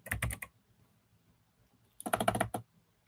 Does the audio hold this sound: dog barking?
no